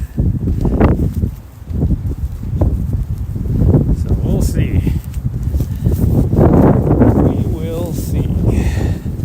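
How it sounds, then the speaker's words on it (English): Strong wind gusting outdoors during an evening trail run, a loud steady buffeting roar across the microphone with rustling and footfalls mixed in, no voices. "it is quite windy"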